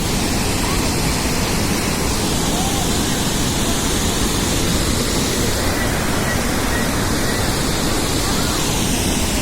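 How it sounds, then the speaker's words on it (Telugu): A heavy, continuous roar of falling water from Niagara Falls fills everything, loud and unbroken from start to finish. "చాలా పెద్ద వాటర్ ఫాల్స్ ఇది"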